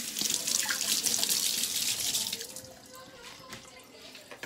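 A kitchen tap runs strongly as celery is rinsed under it, a bright hissing splash that eases and thins after a couple of seconds into lighter trickling and drips.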